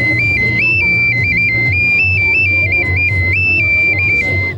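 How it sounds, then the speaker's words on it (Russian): A handmade clay whistle is played in a warbling, trilling melody that steps between two pitches, loud and close, over a low background rumble. "Это свистулька, сделанная своими, конечно, руками, без участия в каких-либо приспособлений."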